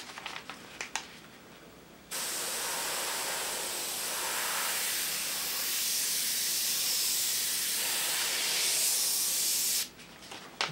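An airbrush loaded with black Indian ink sprays in one steady, loud hiss lasting about eight seconds, starting and stopping abruptly, with quieter handling noises before and after.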